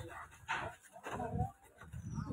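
A dog gives a few yips and short barks beside the flooded Narmada river, close and mixed with rushing water noise and a voice talking.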